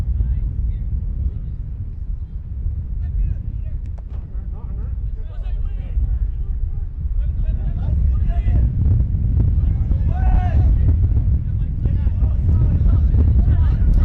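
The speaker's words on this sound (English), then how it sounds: "you can probably tell by listening that it is a little bit windy here today" Heavy wind buffets the microphone with a constant low rumble at an outdoor junior varsity soccer match, and faint voices can be heard beneath it.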